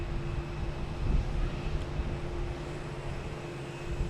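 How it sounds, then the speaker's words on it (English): An airplane flies over Pleasure Bay near Logan Airport, a faint distant steady engine rumble with a low hum, swelling slightly then fading, outdoors with no voices. "So the plane is over Pleasure Bay right now."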